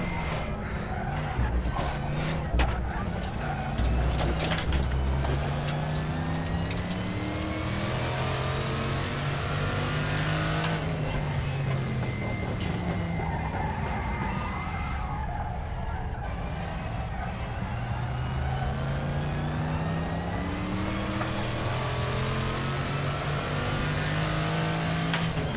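A Group 5 race car in RaceRoom at Salzburgring, its engine droning steadily with rising and falling revs through gear changes, continuous and loud, with talk over it.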